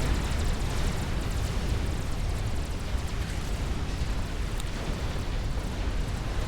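A nuclear strike detonates in a real-time strategy game, heard as a loud, sustained low rumbling roar with dense broadband noise that stays steady throughout.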